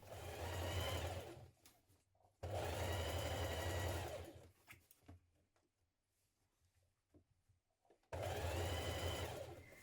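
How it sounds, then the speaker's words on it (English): A sewing machine stitching a coat collar for a vintage-style coat: three close, steady whirring runs of rapid stitching, separated by quiet gaps with small handling sounds. "we're now going to stitch this in place"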